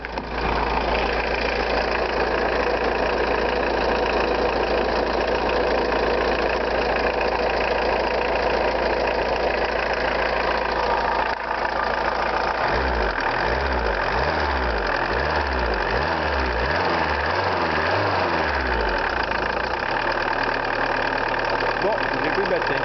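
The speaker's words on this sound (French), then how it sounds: "Un moteur qui ne claque pas." A Volkswagen Golf 2 TD turbo-diesel engine idles steadily and close by, its low throbbing hum continuous throughout, with a rhythmic low-pitched pulsing fluctuation appearing in the second half; people talk intermittently over it.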